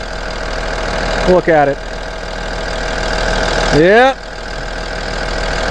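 A Cummins 6.7 diesel rated at 240 horsepower, mated to an Allison transmission, idles steadily in a 2009 Blue Bird All American bus, a constant near rumble while a voice speaks briefly over it twice.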